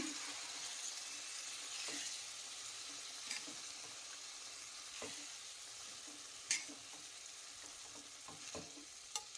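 A spoon stirs cauliflower and peas gravy in a pan after water is added, giving quiet, irregular scraping strokes over a soft, constant sizzle, with a few sharper clinks against the pan.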